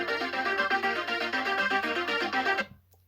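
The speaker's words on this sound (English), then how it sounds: "Then the watch will send the signal to the phone and the phone should ring." A phone ringtone plays loudly and steadily as a bright repeating melody, then cuts off abruptly near the end, leaving quiet.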